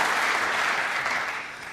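A snooker crowd at the UK Championship semi-final applauding steadily, dense clapping that tapers slightly toward the end.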